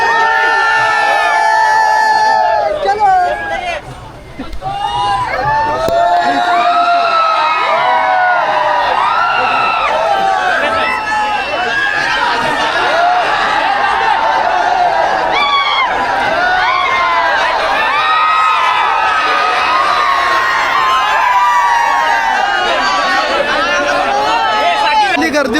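A dense crowd at a public gathering in Chiplun cheers, whoops and shouts, with children's voices in the mix. The din stays loud and continuous, dips briefly near the start, and someone speaks over the noise throughout.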